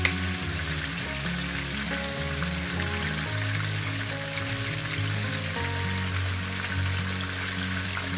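Pork chops sprinkled with buttery steakhouse seasoning frying in a pan, a steady, even sizzle running under background music throughout.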